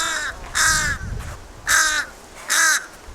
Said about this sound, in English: Here's what a fish crow sounds like. It's a little bit of a more nasally caw.